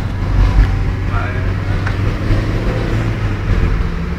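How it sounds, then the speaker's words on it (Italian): A Fiat Fiorino van engine drones steadily at close range, a low rumbling hum with muffled voices faintly underneath. "Intanto sentite il motore del Fiorino che cerca di tenere testa"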